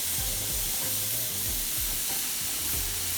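A burger patty seasoned with salt and pepper fries in a pan for a bacon cheeseburger, giving a loud, steady, close sizzle and hiss throughout with no talking.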